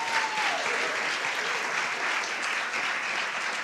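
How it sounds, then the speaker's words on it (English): Town hall audience applauding steadily throughout, a dense, even wash of clapping with no talk over it. "Let's give him a round of applause."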